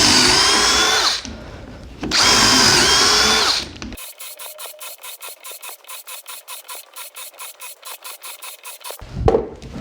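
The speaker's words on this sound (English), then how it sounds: "we're going to go ahead and drill 25 holes and check the temperature." A Dewalt 20V hammer drill boring a series of 1/4 inch holes, with two loud sustained whining bursts followed by a quieter run of rapid, evenly spaced rasping pulses and a final short whir.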